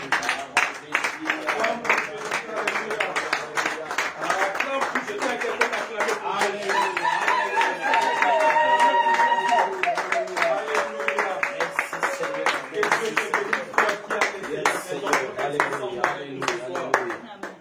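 Church congregation at a fasting and prayer gathering breaking into sustained applause, many hands clapping rapidly and loudly for well over ten seconds, with voices and cheers mixed in.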